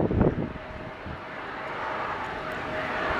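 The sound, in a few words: Embraer Praetor 600 business jet departing on runway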